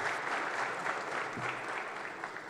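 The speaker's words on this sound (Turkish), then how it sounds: "Ayakta alkışlandı." A dense standing ovation fills a parliament chamber, steady sustained clapping from a large crowd at full volume with no pauses.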